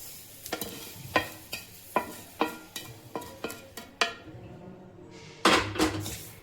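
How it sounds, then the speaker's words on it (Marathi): Roasted garden cress seeds are scraped into a kadhai with a steady series of sharp metallic taps and scrapes, about one every half second. The sounds are close and moderately loud, with a louder clatter near the end. "आळीव आपण एका कढईमध्ये काढून घेऊ"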